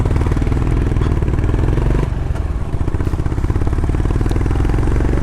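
A group of Honda CB motorcycles rides by on a mountain route from Gangtok to Nathula Pass, with loud, close engines throbbing and clattering continuously as several bikes pass.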